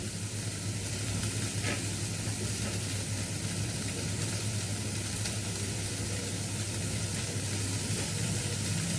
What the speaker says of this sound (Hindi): जब तक ये भुनती है प्याज।